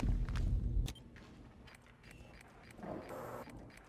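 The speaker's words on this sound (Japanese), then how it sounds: "足音がしてるけど仲間" Faint, scattered footsteps in the Rainbow Six Siege video game on PC, heard as soft irregular steps over quiet in-game ambience.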